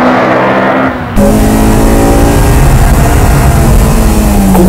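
A front-wheel drive race car powers through the technical section of a race course, its engine note dipping briefly then surging into a loud, sustained rising rev with steady harmonic whine, close and continuous.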